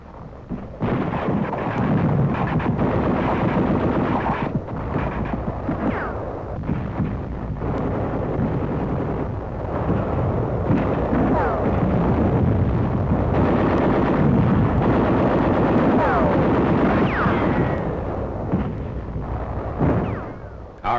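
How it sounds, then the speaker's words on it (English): Heavy-caliber mortar and artillery fire during WWII combat on Peleliu: a continuous dense rumble of distant booms and blasts rolling together without pause, loud and sustained throughout. "Troops also are being harassed by heavy caliber mortar fire from the Gaysebus Island, about half a mile from Peleliu."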